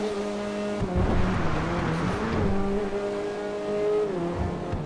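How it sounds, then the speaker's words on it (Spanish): A BMW car in the video game GTA V Online revs and drones, its engine pitch rising and falling with swelling and easing throttle, loud and close throughout. "Oye, suena bien este coche, ¿eh? este BMW."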